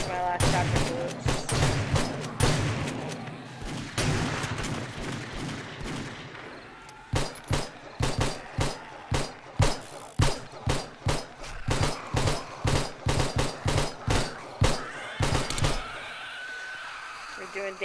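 Gunfire in the survival game 7 Days to Die: a busy mix of shots at first, then a run of sharp, evenly spaced single shots repeating roughly every half second, loud and close, with voices talking over it.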